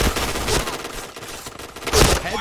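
Rapid rifle gunfire rattles in a first-person shooter video game, dense overlapping shots close and loud across the whole stretch, with a stronger burst near the end.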